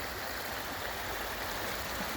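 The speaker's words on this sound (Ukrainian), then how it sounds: "в натурі дійсно відпочити, послухати шум води" The Slavka river in Slavsko flows with a constant, even rush and hiss of water, dense and unbroken, with no voices over it.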